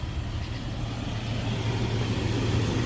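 A Land Rover 4.0 V6 engine runs at a steady idle at night, a low continuous rumble heard up close with no other sounds.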